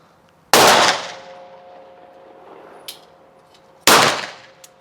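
Two loud, sharp revolver shots fired double action on an outdoor range, roughly three seconds apart, each with a quick decaying ring; a faint click sounds between them.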